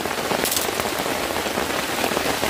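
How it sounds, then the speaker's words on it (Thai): Steady rain falls on surfaces outdoors where red amanita mushrooms grow from the soil, a dense continuous hiss of drops with no voices, fairly loud and even throughout. "ตอนนี้ก็ฝนตกเลยจ้ะ"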